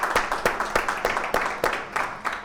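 A group of returning students clapping to welcome new students at the first class of a systematic theology course, with sharp, scattered hand claps over a few seconds, moderately loud and close.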